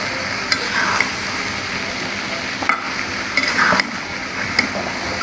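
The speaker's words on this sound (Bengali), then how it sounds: "এখন আবার একটু ঢাকনাটাকে তুলে নিয়েছে, তুলে নিয়ে নাড়াচাড়া দিয়ে দিচ্ছে" Chicken meat frying in a pot being stirred, a loud continuous sizzle with scraping strokes of the spoon breaking through now and then, close up.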